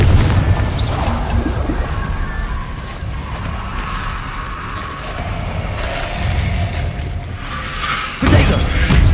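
A Confringo explosive spell cast in Hogwarts Legacy, heard as a run of booming blasts and bursts over rumbling game noise, with a louder hit near the end and a voice talking at times.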